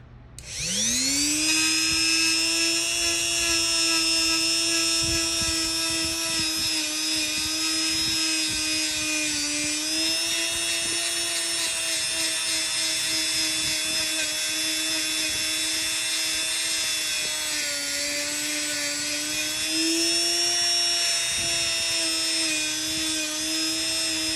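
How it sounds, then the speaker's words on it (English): A rotary tool sanding polymer clay whines at a high, steady pitch for a long stretch, its tone dipping slightly as it presses against the surface, loud and close. "I'm sanding the top of the elephants to make them super smooth"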